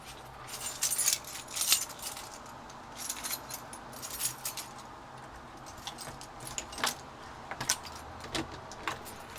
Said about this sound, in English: Just gotta lock the door real quick.